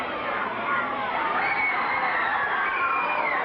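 A packed crowd at the Seattle Center Arena cheers and shouts during a wrestling match, a loud, sustained roar of many voices swelling slightly and holding throughout.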